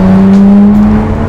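German car with a Porsche-designed manual transmission starting up, a loud close engine note that holds steady and then settles, heard alone.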